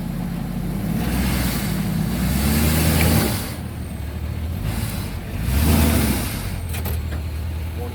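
A Ford F350 6.7 diesel dually truck revs hard while a wheel spins in mud, its engine roaring loudly in two long surges with a brief dip between them, close by.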